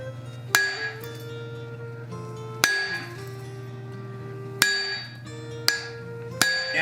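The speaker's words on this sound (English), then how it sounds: "And I'm hitting with my hammer 1/2 on, 1/2 off to create a notch there." Hammer striking hot steel on an anvil while forging an axe, five ringing, spaced blows, each leaving a bright metallic ring that decays slowly between strikes.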